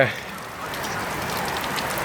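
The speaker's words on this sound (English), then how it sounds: "the heavens just opened and it's raining buckets" Heavy rain pours down steadily outdoors beside a shed being built, a dense, loud, continuous wash of drops drumming on surfaces.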